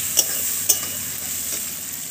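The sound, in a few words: sautéing fish masala with Kashmiri chili powder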